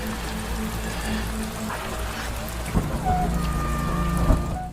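Rain falls steadily at night outside wooden prison cages, a constant hiss with occasional low rumbles and a few louder knocks and scrapes close by.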